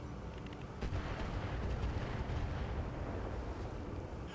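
Artillery bombardment in the BattleTech RogueTech game comes as a low, rumbling roar of distant explosions layered together, with a few sharper impacts and no talk.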